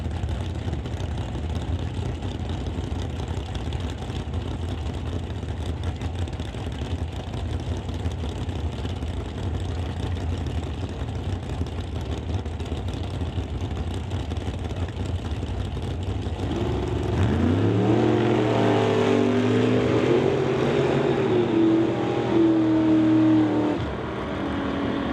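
At a drag strip a Camaro drag car idles and rumbles loudly for a long stretch, then its engine pitch climbs sharply as it launches and pulls away down the strip before dropping off.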